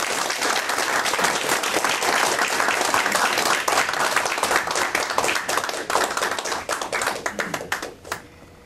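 Sustained applause from a seminar audience welcoming a guest lecturer on Islam, dense and steady clapping throughout that thins into scattered claps near the end.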